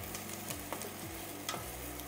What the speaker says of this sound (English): Okay, we're starting off with our onions.